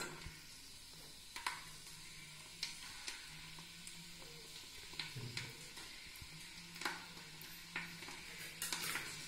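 Cumin, mustard powder, fenugreek powder and garlic frying in hot oil for Andhra mango pickle, a steady crackling sizzle with repeated scraping stirs and occasional clinks of a spoon against the pan.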